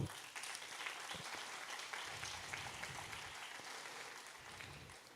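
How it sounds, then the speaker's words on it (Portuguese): A church congregation applauds during worship, producing a soft, continuous patter of clapping that sounds somewhat distant and fairly quiet, with faint low rumbles underneath and no talking. "Você pode aplaudir ao Senhor?"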